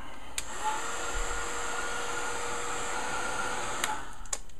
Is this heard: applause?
no